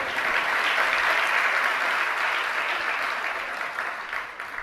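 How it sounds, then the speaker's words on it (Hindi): Applause from a seated audience at a Jain sermon by Vidhya Sagar Ji Maharaj, a dense, steady wash of clapping that stays loud throughout and thins slightly near the end, with no talk over it. "आप भी ताली बजा करके भक्ति तो करते हैं।"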